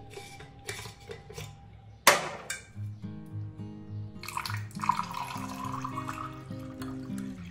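Water poured into a glass for a raw mango aam panna drink, splashing and trickling near the microphone alongside clinks of glass and ice and a sharp knock.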